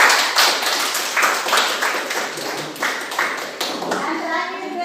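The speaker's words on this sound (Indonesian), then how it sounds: "beri aplaus." A class of students applauds after a group presentation during a teaching-practice lesson, giving a dense, steady patter of many hands clapping for several seconds, with children's voices mixed in and the applause thinning out toward the end.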